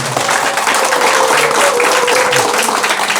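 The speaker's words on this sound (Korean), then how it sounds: "그럼 뜨거운 박수 한번 좀 부탁드리겠습니다" Enthusiastic applause from an audience at a political lecture event in Ansan, dense continuous clapping from many hands, loud and close for just over three seconds.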